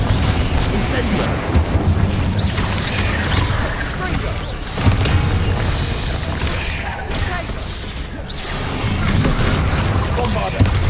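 Spell blasts and fiery explosions from Incendio and Confringo in the game Hogwarts Legacy, a dense, continuous barrage of booms and whooshing bursts throughout, with a voice calling out spell names over the noise.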